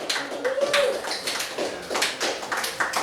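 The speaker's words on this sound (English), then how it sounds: "Give them a round of applause." Audience applause for a band at a live show, a dense spread of hand claps with scattered whoops, fairly close and steady throughout.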